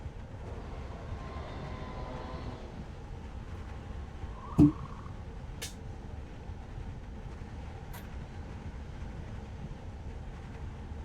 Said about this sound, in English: We're riding the monorail. How cool.